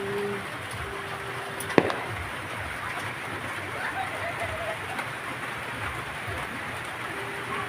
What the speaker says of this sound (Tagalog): Umulan na naman ang panahon.